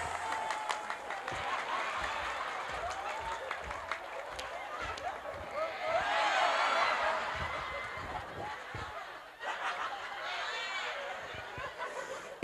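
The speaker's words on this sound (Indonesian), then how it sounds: "tepuk tangan." Women in the audience at a religious talk in a village hall in Tegal, Indonesia, clapping in a moderate, fairly distant patter that swells midway then thins, with murmuring voices and brief laughter underneath.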